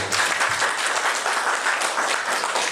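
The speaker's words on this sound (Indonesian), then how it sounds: "Tepuk tangan untuk" Audience applause at a health centre accreditation survey event, a steady broadband wash of clapping filling the whole moment without pause, fairly close and even in level.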